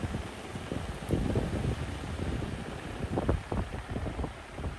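A rusted 88-year-old Robbins and Meyers industrial fan spins fast, producing a steady, loud, broadband rush of moving air with gusty fluctuations that continues without a break.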